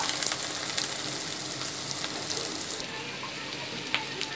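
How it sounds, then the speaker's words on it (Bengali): Chopped onions fry in hot oil in a pan, giving a dense, steady hiss and crackle that holds throughout, loud and close, with occasional faint stirring and no voices. "তেলটা গরম হলে আমরা পেঁয়াজটা দিয়ে দিব।"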